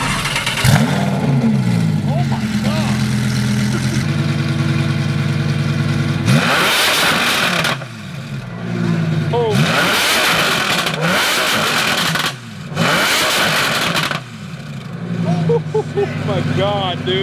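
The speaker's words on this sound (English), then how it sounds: "S.A. Aperta just cruising through" A Ferrari 599 SA Aperta supercar accelerates past on a town street, a loud rising engine roar with sharp revving surges and gear changes, while excited voices talk over it.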